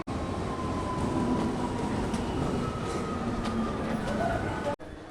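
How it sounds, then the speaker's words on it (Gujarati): A suburban commuter train at Santacruz railway station in Mumbai, a loud steady rumble with rail hiss and a faint squeal of wheels, cutting off abruptly near the end. "મિત્રો હું અહીંયા આવી ગયો છું રેલવે સ્ટેશને સેન્ટા ક્રુઝ"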